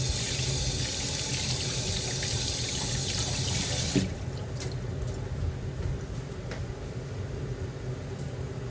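Water pours steadily into a cooking pot for about four seconds and then stops, leaving quieter kitchen sounds with a few small knocks.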